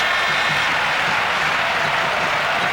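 A packed arena crowd roars at the 1996 Futsal World Cup final between Spain and Brazil after a sudden shot, a loud, dense, unbroken wash of cheering that fills the whole moment.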